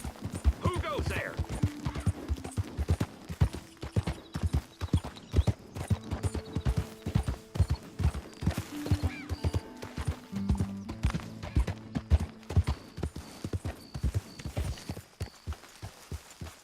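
Horse hooves clip-clop steadily in Red Dead Redemption 2, close and rhythmic, with a horse whinnying early and again midway, over faint music.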